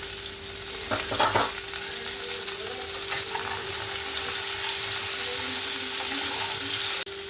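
Cauliflower and potato pieces fry in leftover fish-frying oil with a steady close sizzle, with a few scraping stirs early on and a sharp clack near the end.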